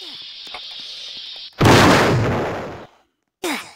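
A bomb goes off in a Roblox video game: a loud, sudden blast that rumbles and fades over about a second, with a brief electronic tone before it and another short burst near the end.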